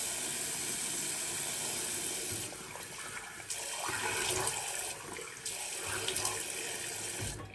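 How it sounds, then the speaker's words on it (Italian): Running tap water splashing as a face is rinsed over a sink before shaving, a close, steady rush with brief changes in splash tone and no talk. "Mi risciacquo il viso"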